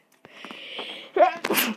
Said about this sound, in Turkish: hapşırdım arkadaşlar.